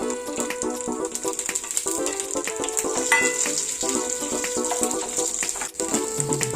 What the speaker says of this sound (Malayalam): വറ്റൽ മുളക് കഷ്ണങ്ങളാക്കിയത്, ആവശ്യത്തിന് കറിവേപ്പില എന്നിവ വഴറ്റുക.